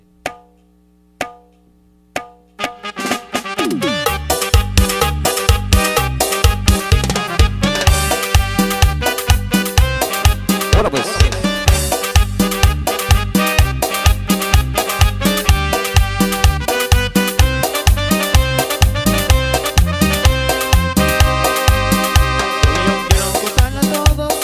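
A tropical keyboard song played on electronic keyboard, opening with a few sparse tones before a steady, loud, driving rhythm with bright repeated melody lines and bass runs throughout.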